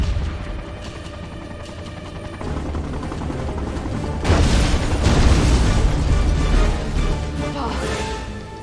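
A helicopter blown up in an action film: a sustained roar of blasts and debris that swells into a louder explosive surge midway, then tails off, with no speech.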